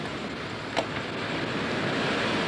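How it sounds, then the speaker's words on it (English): Tropical storm force winds roar ahead of Hurricane Andrew in Fort Lauderdale, Florida: a steady, loud broadband rush of wind that builds slightly over a few seconds, with one brief knock early on and no talking. "We're just feeling the tropical storm force winds."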